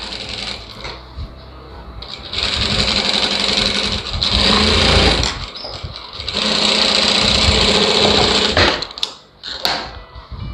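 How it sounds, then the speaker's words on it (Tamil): A sewing machine stitches the neckline of a lined blouse in steady bursts of rapid mechanical whirring, pausing briefly between runs, close and loud with no talk. "அடுத்தது கழுத்து தைச்சிக்கலாம்."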